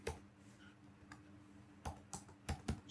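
Typing on a computer keyboard to enter a Google search, heard as a few isolated clicks early on and then a short burst of sharper, louder keystrokes near the end, close and dry against a faint steady hum.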